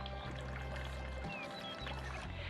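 Liquor pouring into a batch of apple cider punch, a steady soft liquid stream running continuously over a low background hum, fairly faint and close.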